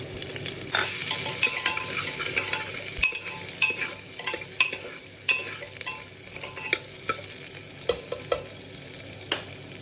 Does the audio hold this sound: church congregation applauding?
no